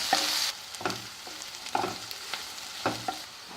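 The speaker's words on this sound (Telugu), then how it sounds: "ఇప్పుడు కాసేపు ఆనియన్స్ని మగ్గనిద్దాము" Onions, green chillies and curry leaves fry in oil for a ridge gourd and black-eyed pea curry, giving a soft continuous sizzle broken by regular scraping strokes of a spatula against the pan.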